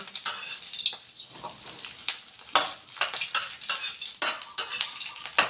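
Squid frying in a pan in a home kitchen, a steady sizzling hiss broken by repeated sharp clinks and scrapes of a utensil against the pan, close and moderately loud with no talking.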